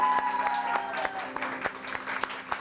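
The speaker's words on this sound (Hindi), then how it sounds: "माविया जमील के लिए बहुत सारी तालियां" Studio audience applause on a Pakistani morning TV show, a steady mass of clapping lasting throughout at moderate volume, with some speech or music faintly mixed underneath.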